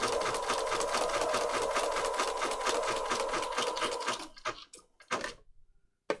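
A sewing machine stitching a zigzag seam on paper patchwork tags, a fast even mechanical chatter for about four seconds, close and loud, then stopping into a few isolated clicks and handling sounds.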